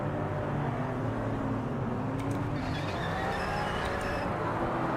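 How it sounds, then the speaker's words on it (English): A race car engine drones and revs at a standing launch in the racing game Project Motor Racing, a dense, steady engine roar with faint tire squeal flickering over it and no break throughout. "I don't know where I'm supposed to be revving it for the launch again."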